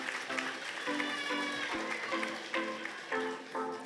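Audience applause for a contestant at the Miss New Caledonia 2020 pageant, steady and moderately distant, with a voice and music-like tones running over it.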